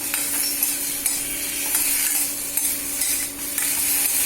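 Okra being stirred and sautéed in a pan, a steady soft sizzle with repeated scraping taps of a utensil against the pan at an irregular rhythm, close and alone without voices.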